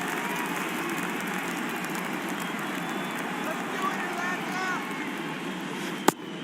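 The crowd at a Braves vs. Nationals baseball game keeps up a steady roar of cheering and chatter, with a commentator's voice talking over it and a sharp crack near the end.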